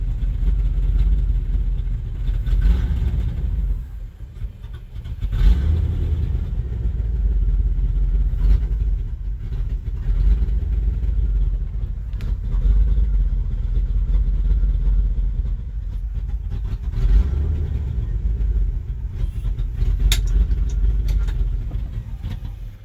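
A car with a throttle body injection fault idles loudly and close, a rough low rumble that wavers and dips unevenly over roughly twenty seconds, with no talking over it.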